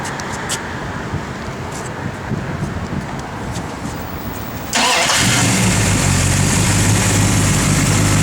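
A 1971 Dodge Demon's engine cranks and catches, jumping from a quiet hiss to a loud, steady idle that continues to the end.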